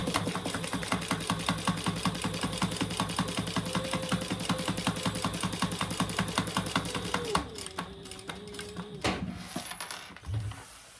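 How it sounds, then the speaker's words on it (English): A sewing machine runs steadily, top stitching along the bottom edge of a wallet's slip pocket, its fast rhythmic needle clatter close and continuous for about seven seconds before it slows, pauses and ends with a few handling clicks. "Now we're just going to top stitch along this bottom edge because that becomes one of the slip pockets."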